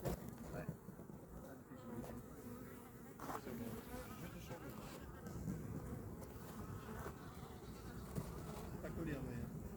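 Dense, steady buzzing of many bees at a newly installed hive in Boissise-la-Bertrand, France, fills the air continuously, with a faint voice briefly underneath.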